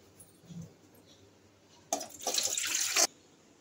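Thin Bengali mutton curry pours out of the pot in a short, close, splashing stream of liquid that lasts about a second, after a quiet stretch with faint kitchen clatter.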